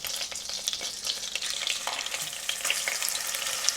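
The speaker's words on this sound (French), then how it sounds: "On commence par marquer en cuisson nos morceaux de viande dans un mélange de beurre et d'huile." Pieces of meat sear in a mix of butter and oil for a Hungarian goulash, giving a steady, close sizzle scattered with small crackles and pops.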